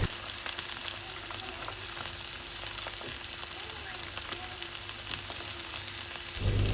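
Chopped tomatoes, carrots and curry leaves fry in hot oil with a steady, bright sizzle and crackle, fairly close. A low thud comes near the end.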